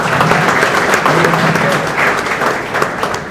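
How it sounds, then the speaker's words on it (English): An audience at a React developer meetup in Ahmedabad bursts into loud applause. The dense, even clapping fills the whole stretch without letting up. "Can we have a huge round of applause for him?"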